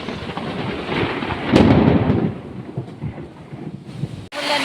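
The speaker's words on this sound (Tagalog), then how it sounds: "Ulan din." A thunderstorm on a farm, with a low rumble of thunder swelling midway over a steady wash of heavy rain, no voices, ending in a sudden shift of noise.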